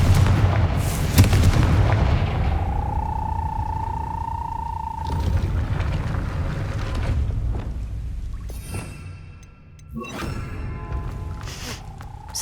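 Confringo fire spell blasts in Hogwarts Legacy: deep booming explosions with rumbling low end and a sustained whooshing tone, followed later by sharper crackling bursts, loud and close with no talking.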